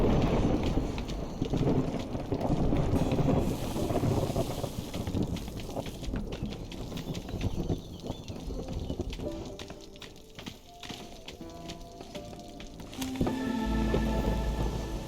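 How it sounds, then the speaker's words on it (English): A rainstorm in the video game Against the Storm patters continuously on surfaces, with scattered drops and a low rumble beneath, swelling and easing over the stretch; no voices. "We're back into the storm"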